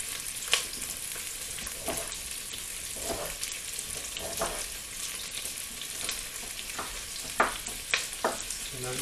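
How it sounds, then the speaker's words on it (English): Onion and ginger frying in a pan, a continuous close sizzle broken by scattered spoon taps and stirring scrapes. "Fry the onion."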